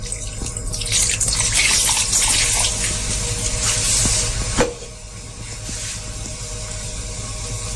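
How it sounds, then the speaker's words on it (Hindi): Water streams steadily into a pot of sweet zarda rice cooking over a low flame, a continuous close splashing pour that eases off partway through and settles into a softer trickle. "इसमें ऐड करेंगे थोड़ा सा पानी"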